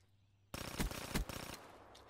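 Gunfire in a shooter video game, a short loud burst of rapid shots with two heavier reports, fairly close and alone without talk.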